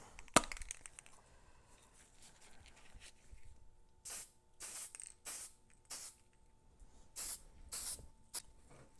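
A rattle can of primer sprays a TootsieToy van in a series of about seven short hissing bursts, close and fairly loud, with quiet pauses between them.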